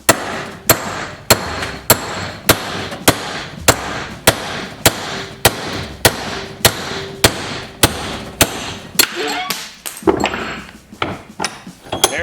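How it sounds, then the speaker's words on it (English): A hammer strikes a punch to drive a pin out of a John Deere mower deck adjustment arm, about twenty sharp metallic blows in a steady rhythm, close and loud, with a few quicker taps at the end. "And take a good sized punch and a hammer."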